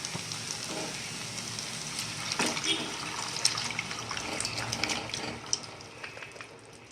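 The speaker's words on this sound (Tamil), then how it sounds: "இப்போ நம்ம வேக வச்ச மட்டன் அந்த தண்ணியோடையே சேர்த்துக்கலாம்" Boiled mutton and its cooking water splash and pour into a pan with wet sloshing and scattered clinks, steady and close, lasting several seconds without speech.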